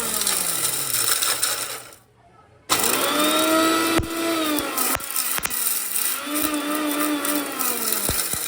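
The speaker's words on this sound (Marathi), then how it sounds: "एवढा मसाला खूप बारीक करा" Mixer grinder finely grinding masala, a loud whirring motor with rising and falling pitch and rattling bursts, stopping briefly for about a second before restarting and running on close by.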